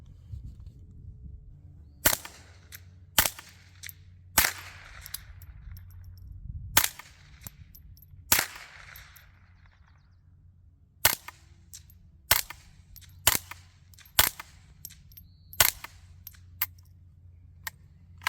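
Ten suppressed .22 LR shots, five supersonic and five subsonic, from a Silencer Co Spectre on an 8.5-inch Ruger 10/22 Charger SBR, fired as sharp separate cracks at uneven intervals over a quiet outdoor background.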